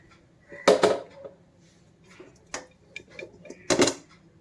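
A steel pot being handled in a kitchen while preparing grapes for wine: a few sharp metallic clanks and knocks, two louder hits separated by softer scrapes and taps, close by.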